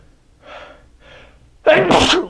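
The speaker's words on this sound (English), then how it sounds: "I might sneeze here, guys, just so you know" Two faint breathy inhales build up before one loud, sharp sneeze bursts out close by.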